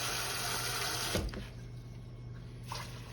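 Water pours from a tap into a pot of red beans, a steady rushing splash that cuts off abruptly partway, followed by quiet kitchen hum and a brief faint trickle.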